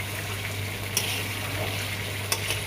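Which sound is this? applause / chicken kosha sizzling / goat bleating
chicken kosha sizzling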